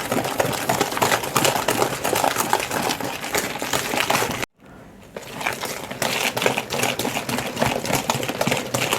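Electric mixer whipping a sugar mixture for petit four cookie dough, a steady loud whirring buzz that cuts out briefly midway and then resumes at full strength.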